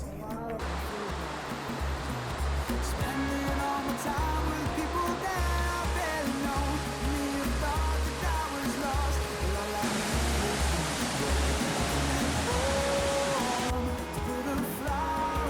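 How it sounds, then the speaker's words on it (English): Strong wind roars in a dense, steady rush of noise that fills the whole stretch without letting up, on a backcountry trail among rocks by a creek in Cloudland Canyon. "do you hear that wind? That's a lot."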